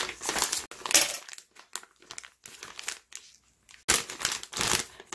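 A plastic piping bag having its tip snipped off while soap-base cream for a cupcake bubble bath bomb is being made: close, crisp crinkling and rustling of plastic in irregular bursts, with short quiet gaps between handling sounds.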